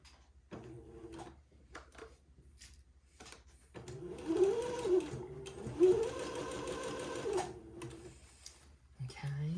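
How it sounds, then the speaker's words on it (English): A sewing machine stitches a quarter-inch seam in short whirring bursts, close and moderate, with pauses between runs. "I'm going to start sewing at the center of the white. Okay, 1/4 inch seam"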